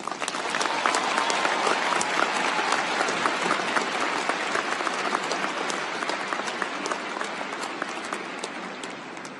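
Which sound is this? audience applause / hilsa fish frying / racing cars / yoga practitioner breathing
audience applause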